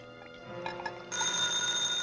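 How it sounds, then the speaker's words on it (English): An old-time telephone bell rings in a radio suspense drama; after a quiet stretch it cuts in abruptly and loudly at about the midpoint, then keeps up a steady, bright, sustained ring to the end, with no talk over it. "that ringing sounded urgent"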